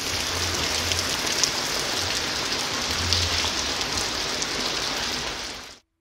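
Heavy rain falls on the outskirts of Bengaluru as a dense, constant hiss of drops hitting surfaces, steady and loud throughout, then cutting off abruptly at the end.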